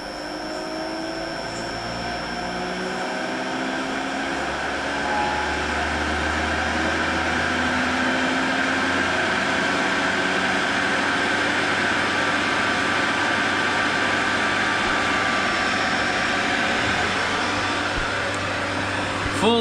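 A WVO Designs centrifuge spins up with oil flow and heater on, its steady motor drone and mechanical hum holding loud and close throughout with no break.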